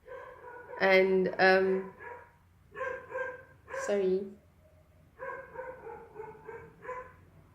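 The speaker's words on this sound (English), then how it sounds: "my dog is still barking." A dog barks close by in several bursts of sharp, repeated barks and yips, interrupted by short pauses, while a person speaks over part of it.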